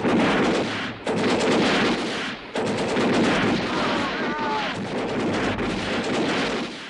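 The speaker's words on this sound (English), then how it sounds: "Those first volleys were devastating at point-blank range." Musket volleys fired at point-blank range in a Battle of Waterloo reenactment make a loud, dense, continuous roar of overlapping shots that crackles on for several seconds, with brief dips between bursts.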